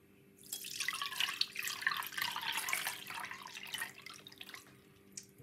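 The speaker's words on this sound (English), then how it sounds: "So I'm gonna run it through the next strainer." Homemade sorrel drink with ginger, cinnamon, orange peel and cloves poured through a strainer, a steady close trickle and splash of liquid lasting several seconds before tapering off.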